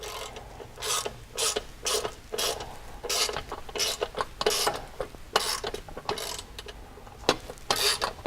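A ratchet wrench snugging bolts on a Ricochet A-arm skid plate, clicking in repeated close, loud bursts of rapid pawl clicks with brief pauses, no voices.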